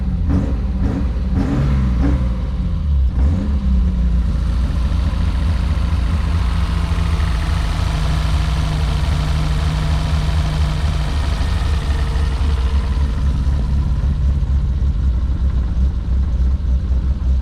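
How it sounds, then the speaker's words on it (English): A BMW E30 engine with big cams idles roughly and steadily, loud and close throughout, after a few brief revs at the start as the throttle is eased off. "See if it'll idle without dying."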